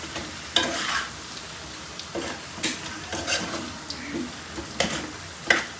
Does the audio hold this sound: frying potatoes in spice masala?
yes